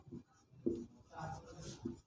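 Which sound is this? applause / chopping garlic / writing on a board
writing on a board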